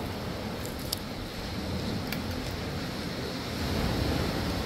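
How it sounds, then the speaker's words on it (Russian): Sea waves washing onto a Crimean beach, a continuous broadband rush with a slight swell toward the end, loud and close with no talk. "Под шум моря, на берегу."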